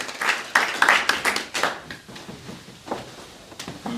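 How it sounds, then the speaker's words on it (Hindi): Audience at an Urdu poetry mushaira held for Iqbal at the Pakistan High Commission in London claps in bursts of scattered applause that fade and return. "आपकी भरपूर तालियों में"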